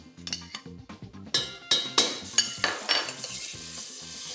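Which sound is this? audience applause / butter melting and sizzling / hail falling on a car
butter melting and sizzling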